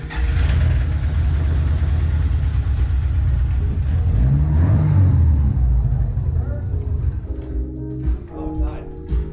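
Subaru engine with a junkyard transmission just installed, started and revved loudly in a garage, the rumbling engine swelling and falling steadily throughout while people talk over it.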